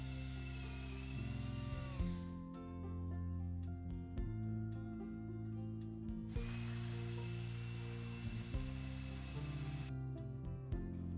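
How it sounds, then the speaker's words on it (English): A power drill bores a hole through pallet wood between two stringers, whirring in two sustained runs separated by a short pause, fairly quiet and with no talk. "Now create a hole in the middle of two stringers."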